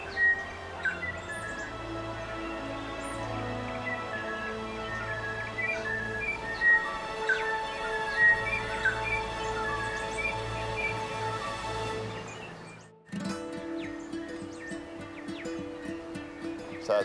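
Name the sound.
wild birds singing on a New Zealand island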